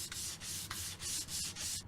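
Steady back-and-forth sanding strokes on wood edges with edging tape, about six rhythmic passes of gritty abrasive rubbing, close and fairly loud with no voices.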